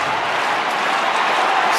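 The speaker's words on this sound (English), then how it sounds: "as you can hear the Eagles crowd here at Perth Stadium" West Coast Eagles fans roar at Perth Stadium during an Australian football match against St Kilda, a dense, steady wash of crowd noise that holds at a loud level with no break.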